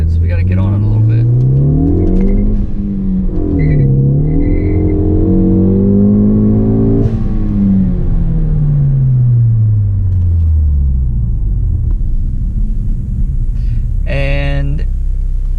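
2015 Ford Focus ST with a Cobb Access Port tune accelerating hard from inside the cabin, engine note rising and falling through several gear changes, loud and close, with a brief sharp burst near the end.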